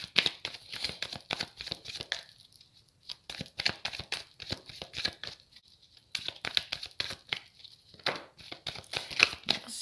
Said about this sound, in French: Allez, je vais prendre 3 cartes pour vous.